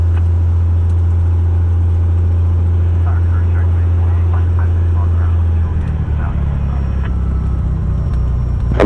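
A Cessna 210 light single-engine aircraft drones steadily and loudly in flight, its propeller engine a constant low hum that shifts slightly in pitch near the end, with radio chatter and talk layered over it.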